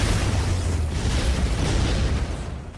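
Heavy explosion sound effect for a single-slash spiritual blast from a thunder sword technique, a loud broad rumbling burst sustained for a few seconds before tailing off, with no voice over it.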